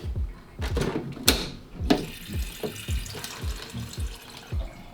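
Filtered water is poured into a coffee maker reservoir, splashing and gurgling in uneven bursts with knocks and clunks of the jug and machine, close by and with no talk.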